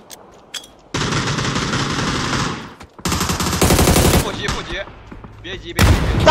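Automatic gunfire in a shooter video game crackles in several loud bursts of rapid shots separated by short pauses, with a final burst at the end.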